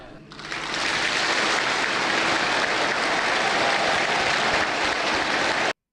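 A large crowd at a political gathering bursts into sustained applause, a dense, loud wash of clapping that swells quickly, holds steady and then cuts off abruptly.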